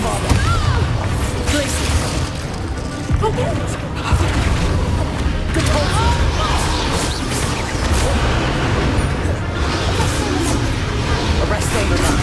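Bombarda spell blasts in Hogwarts Legacy, booming explosions amid a dense, continuous din of combat effects, with voices calling out spells over the commotion.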